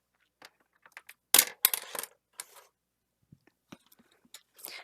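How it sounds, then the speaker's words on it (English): Handheld snips cut a piece out: a dense cluster of crisp snipping and crunching sounds in the middle, then scattered lighter clicks and small handling noises, fairly close and quiet with no talking. "I'm going to go ahead and cut that piece out with my snips."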